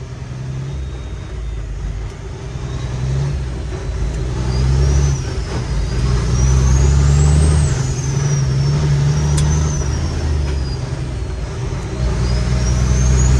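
Car accelerating hard on the road while a truck passes, a loud rising engine roar with a faint high hiss of air brakes, steady and close throughout.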